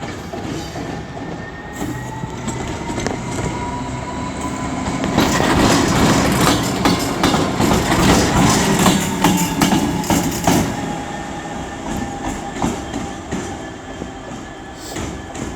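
A train passing through Shrewsbury station, with a steady loud rumble of rolling wagons, rhythmic wheel clatter and faint squealing tones, close and continuous throughout without talk.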